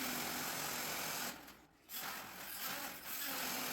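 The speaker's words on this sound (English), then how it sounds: "So I brought out my battery-operated DeWalt multi-tool, which made pretty easy work shaving off the overhang." A battery-operated DeWalt multi-tool saws through metal siding overhang on an elevated hunting blind, giving a steady high-pitched buzzing that dips briefly mid-cut and then resumes, close and continuous with no talking.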